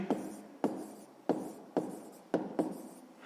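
Pen or pencil writing by hand on paper while working a sixth-grade maths exercise, five or six short scratchy strokes in a steady rhythm, close and fairly quiet with no talk.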